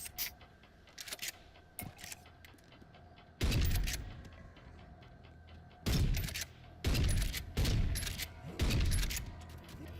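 Shotgun blasts fire in a video game, a handful of sharp, heavy bursts with booming low ends, spaced irregularly between quieter clicks and mechanical ticks.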